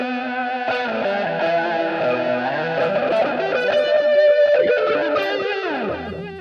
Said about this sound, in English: I've gone ahead and set up a touch wah